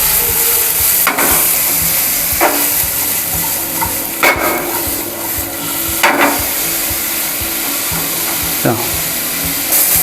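Vegetables and mushrooms sauté in a pan with a loud, constant sizzling hiss, broken by a few sharp utensil knocks and scrapes at irregular intervals.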